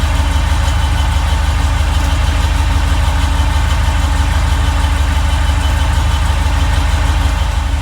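A 1940 Ford COE truck engine with poor coolant flow idles steadily and loudly, its low, even chug continuing throughout without any speech.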